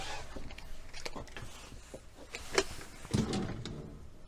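A storage drawer in a Mexican Sunset camper van slides open or shut with a soft rumbling thud near the end, after a sharp click, over faint room noise and light movement sounds.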